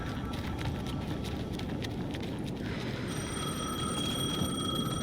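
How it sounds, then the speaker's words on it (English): A telephone rings in the video game Alan Wake 2 with a steady electronic tone that starts partway through, sustained over a continuous crackling, rumbling background. "Answer the phone. The phone again."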